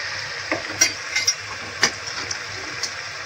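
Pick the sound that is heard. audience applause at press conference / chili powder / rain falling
chili powder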